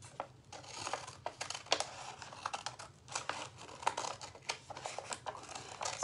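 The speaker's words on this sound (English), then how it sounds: "And now all I have to do is cut that out." Scissors cut a bunny shape out of a book page, a quiet close run of soft snips and paper crinkles in an irregular rhythm.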